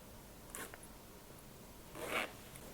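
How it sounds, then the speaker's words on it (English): Zipper pull sliding along the zipper of a handmade sewn tote bag, two short rasping runs, the second louder and longer, close and quiet with no talking. "Finally, install the zipper pull and the zipper stopper."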